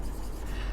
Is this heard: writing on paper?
yes